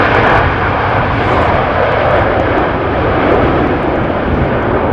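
Steady, loud roar of a KLM airliner on approach to land at Schiphol Airport during a storm, a continuous broadband jet rumble holding throughout with no talk over it.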